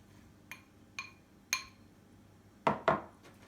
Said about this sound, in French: je vais mélanger les flocons d'avoine dans un saladier avec la poudre d'amande